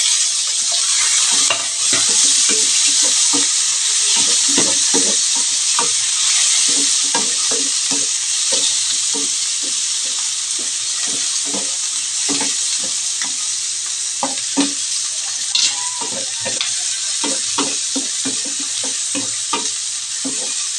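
Squid sautéing with tomatoes in a pan, giving a loud, steady sizzle throughout with repeated scraping stirs and light clinks of a utensil against the pan.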